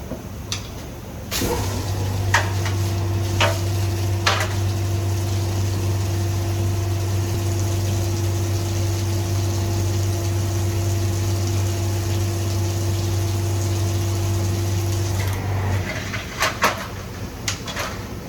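A Landa pressure washer runs at low pressure with no tip fitted, a steady loud motor-pump drone that starts abruptly and cuts off near the end, with a few clicks and knocks at the start and finish.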